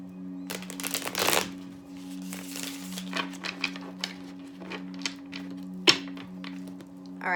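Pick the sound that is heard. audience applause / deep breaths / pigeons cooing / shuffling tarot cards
shuffling tarot cards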